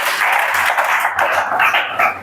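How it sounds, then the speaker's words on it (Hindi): Students in a coaching class for a Chhattisgarh police exam break into loud, continuous clapping and applause that fills the whole stretch without pause. "ताली बजाओ भाई।"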